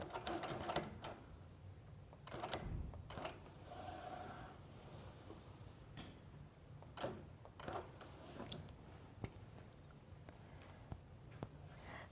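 Sewing machine stitching back and forth across a quilt, short bursts of rapid mechanical clatter broken by pauses and sharp clicks, faint and close, with no talk.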